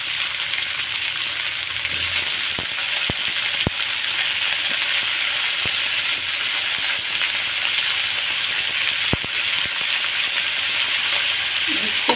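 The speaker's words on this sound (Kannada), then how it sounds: "ಇಷ್ಟು ಹಾಕಿ ಸ್ವಲ್ಪ ಫ್ರೈ ಮಾಡ್ಕೊಳ್ಳಿ" Onion, garlic and tomato fry in a pan for a dal, giving a steady, even sizzle with occasional sharp clicks of stirring throughout.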